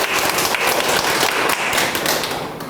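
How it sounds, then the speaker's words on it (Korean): An audience at a youth peer lecture event claps together, a loud, dense patter of many hands that holds steady and then begins to taper off at the end. "박수 한번 부탁드려요."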